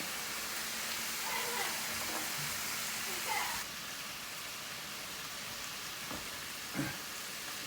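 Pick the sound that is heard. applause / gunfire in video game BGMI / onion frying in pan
onion frying in pan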